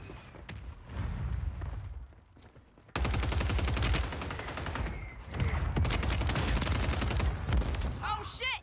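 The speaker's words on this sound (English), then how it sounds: "I missed those shots, but it's cool." Gunfire in Warzone 3: scattered shots and then dense automatic bursts, loud and close, with a brief lull between volleys, and a player talking over it.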